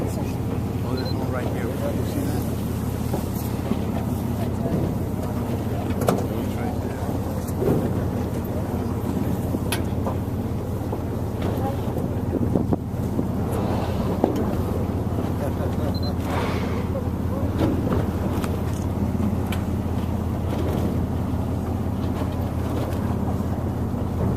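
A whale-watching boat driven by water jets cruises off Santa Barbara, its engine giving a steady, loud low drone with wind buffeting the microphone, while people talk over it throughout.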